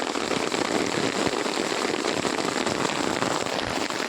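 Heavy monsoon rain falls steadily during the month of Shravan, a dense loud hiss of drops pattering and crackling on surfaces with no break.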